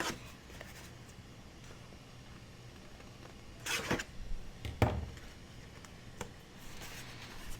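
Scissors snip paper tabs for an exploding box cascading mini album, a few short crisp cuts with soft rustling between them, close and fairly quiet.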